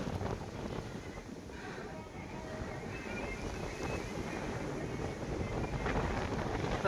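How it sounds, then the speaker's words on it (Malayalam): Steady, blustery wind roars across the microphone on Kondarangi hill near Dindigul, a continuous broad rush with low buffeting and no voices. "കാറ്റടി"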